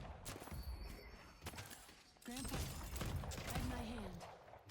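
Rapid gunfire from Holiday's gun in a video game pops in quick bursts and single cracks, with a voice talking over the shots.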